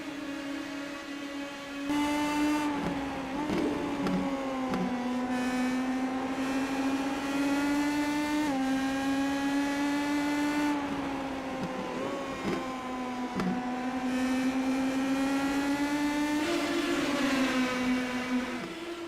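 Race car engines in the iRacing sim at New Smyrna Speedway drone loudly and continuously, with pitch rising and falling as cars lap the short oval, and several engines overlapping in close pursuit.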